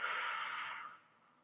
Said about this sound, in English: take a moment, breathe in and breathe out